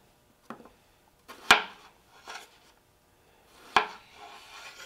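A very sharp knife chops cucumber and carrots on a board for a salad, a few separate crisp knife strikes with short gaps between them, fairly close and quiet, with no talking.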